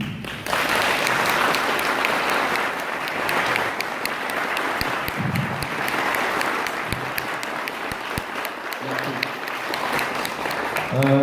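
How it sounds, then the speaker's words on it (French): An outdoor crowd at a First World War centenary commemoration applauds a flag bearer, sustained clapping from many hands that starts abruptly and carries on for the whole stretch, fairly near. "je voudrais qu'on l'applaudisse aussi"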